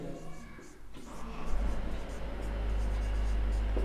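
Pen writing out a maths problem on surface area and volume of a cube, a close continuous scratching stroke that grows steadier and louder as it goes, with a voice speaking over it.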